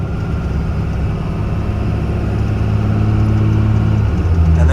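A 2001 Cummins diesel pickup truck cruises down the road near 60 mph in overdrive, its low engine drone steady and loud throughout with a slight pitch shift toward the end.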